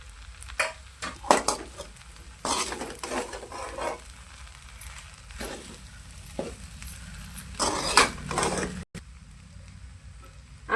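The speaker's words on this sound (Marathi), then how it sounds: "असं हलवून घ्यायचा हलक्या हाताने." Veg fried rice is stirred gently in a pan, a series of soft scraping and clinking spatula strokes in irregular bursts over a faint sizzle, with quiet pauses between moves.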